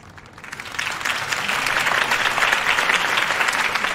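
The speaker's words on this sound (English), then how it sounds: "If only Mr. Wayne, my campaign's largest backer, could have heard that applause" A large crowd in the Batman: The Telltale Series video game breaks into sustained applause that swells quickly and holds steady and dense, with no talking over it.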